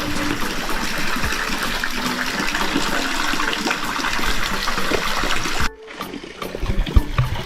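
Water from Bath Fountain in St Thomas pours down in a loud, steady rushing gush close by, then cuts off abruptly near the end, with only quieter splashing after.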